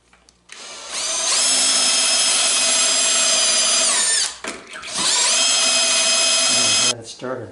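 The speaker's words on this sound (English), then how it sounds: "and drill my hole." A power drill bores a hole in a wooden puzzle table, whining loudly in two long bursts with a short pause between them, and a voice speaks briefly nearby.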